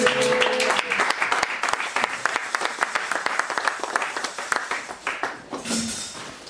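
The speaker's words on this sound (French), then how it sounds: "Est-ce qu'on peut acclamer encore très fort?" A church congregation bursts into loud, sustained applause at a worship service, with dense rapid clapping and some cheering voices that hold strong throughout before tapering toward the end.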